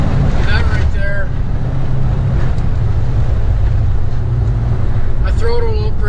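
A Ford 6.7 Powerstroke diesel truck fitted with a stage 2 cold air intake roars loudly under throttle with a deep, steady rumble and wind noise, while someone talks over it.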